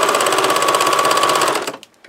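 A sewing machine runs a fast, even burst of stitching, reversing to lock the stitches, loud and close, then stops abruptly with a couple of faint clicks at the end.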